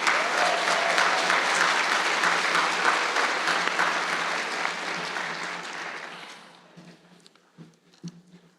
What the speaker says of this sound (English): Please join me in an applause for our faculty and staff